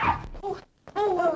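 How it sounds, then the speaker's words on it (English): A small part-Yorkshire terrier whimpers close by in two short, high, whining bursts separated by a brief pause, fairly loud and without talk over it. "Dog's messing up the carpets."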